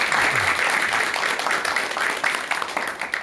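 Audience applause at a lecture hall talk, a dense, even wash of many hands clapping throughout, close and steady with a faint voice underneath.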